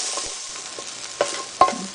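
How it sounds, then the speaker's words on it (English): Sausage and butternut squash browning in a pan: a steady, soft sizzle with a couple of sharp utensil clicks, close and alone. "add our 1/4 cup of butternut squash and get it nice and brown"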